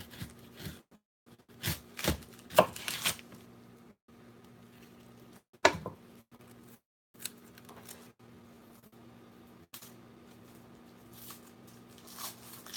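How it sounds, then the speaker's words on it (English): A knife taps and chops through an onion on a cutting board in short irregular bursts with pauses, close by, over a faint steady hum. "Now this goes all on how you chopping your onion."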